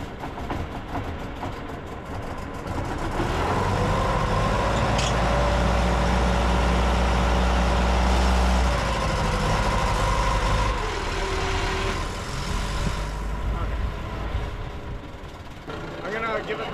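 A sailboat's motor idles with a steady low rumble, close by and loud, then falters and dies away partway through. People talk over the engine noise.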